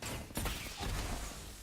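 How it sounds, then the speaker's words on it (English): Gunfire exchanged between players in a Valorant match, a couple of sharp bursts of shots that come quickly one after another, moderately loud against the game's background noise. "bit of a gunshots from both the players there"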